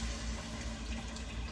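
Homemade broth poured from a pot over red beans in a cooking pot, a steady continuous liquid splash and rush lasting the whole moment, close and fairly loud with no talking.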